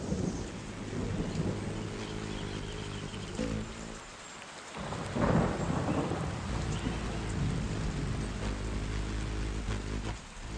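A heavy garden rainstorm pours steadily, with a deep thunder rumble swelling midway through, and no voices.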